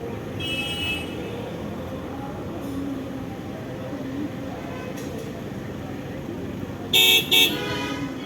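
Near the end, a car horn gives two short, loud honks close behind a car crawling through heavy traffic in Tirumala, over a steady rumble of road and engine noise.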